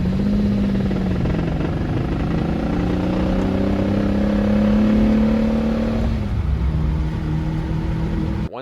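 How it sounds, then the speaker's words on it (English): A Lamborghini Murcielago Roadster with a slipping clutch and a failing transmission whines in first gear. A loud, steady droning howl shifts pitch partway through and then cuts off abruptly at the end. "the transmission makes the worst noise in the world in first gear"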